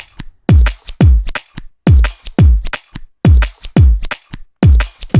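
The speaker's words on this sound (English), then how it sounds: "I chose to place those sort of scissor hits like in the gaps in between the kick and snare." Scissor snips placed as hi-hat style foley in the gaps of a dark minimal drum and bass pattern, crisp bright clicks between heavy booming kick and snare hits in a steady rhythmic loop, no talking.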